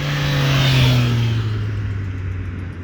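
A Triumph Street Triple 765 R's straight-triple motorcycle engine revs up loudly, its pitch rising and then easing back, with a steady throbbing drone close by.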